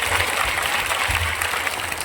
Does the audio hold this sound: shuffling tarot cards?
no